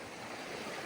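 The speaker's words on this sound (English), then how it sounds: "Little creek crossing." Small creek flowing at a rocky crossing on a mountain hike in Yoho National Park, a steady broadband wash of running water heard close and alone for under a second.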